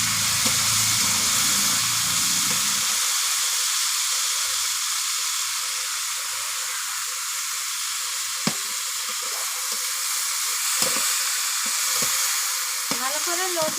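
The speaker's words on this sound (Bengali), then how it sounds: "ভালো করে লতিটা ভেজে নেব।" Taro stolons, salted beforehand so they released water, fry in a pan with a steady loud sizzle and hiss throughout, broken by a few sharp clicks of stirring against the pan.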